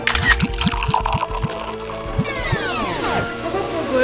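Makgeolli bubbling and gurgling as it ferments in a brewery tank, a close, steady wet burbling with irregular glugs and drips and a rising liquid tone near the end.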